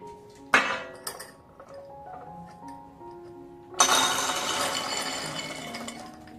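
Glass jars clink and tap while a kitchen is cleaned and rearranged: a sharp knock near the start and a few scattered clinks, then a louder, busier clatter of glass and kitchenware that keeps going to the end.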